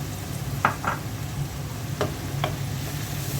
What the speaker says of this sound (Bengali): আলুটা কিছুক্ষণ কষিয়ে নিলাম